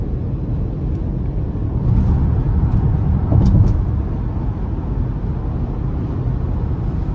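A 2023 Ford Explorer ST-Line with a 2.3-litre turbo four-cylinder drives along the road in sport mode, giving a steady low engine and road rumble that swells briefly midway, heard from inside the cabin.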